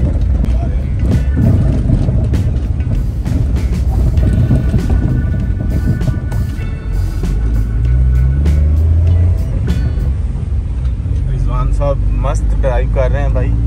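A car climbs and descends a rough mountain road in Kumrat Valley, its engine droning steadily up close with rattling and bumps, while people talk over it throughout.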